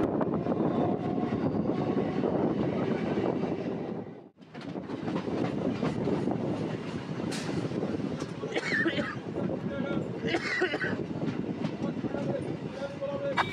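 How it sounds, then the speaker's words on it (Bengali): A local train runs between Howrah and Tarakeswar, its steady rumble and rattle of wagons filling the scene. There is a brief dip partway through, and people talk over the noise. "আমাদের ট্রেন বর্তমানে প্রবেশ করছে নলিকুল স্টেশনে"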